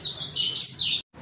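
A white-rumped shama (murai) with a 24 cm tail sings loud, clear whistled phrases close by, rapid rising and falling notes run together before a brief pause and a fresh burst.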